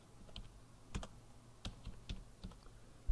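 Quiet typing on a computer keyboard during AutoCAD work, scattered keystrokes tapping irregularly at close range with short pauses between them.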